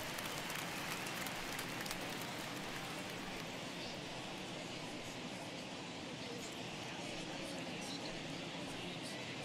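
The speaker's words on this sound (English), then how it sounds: "I don't know how much more rain this field can take" Rain pouring onto a baseball field in the video game MLB The Show 21, a steady, unbroken wash of hiss that holds at an even level throughout with no clear pauses.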